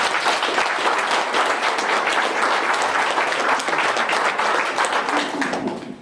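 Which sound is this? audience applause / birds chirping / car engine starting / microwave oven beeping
audience applause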